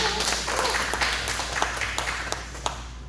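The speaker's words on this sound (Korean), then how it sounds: "박수 한번 보내주세요." An audience at a humanities lecture in a church gives a round of applause, close, crisp claps with a few sharp individual hits standing out as the clapping thins toward the end.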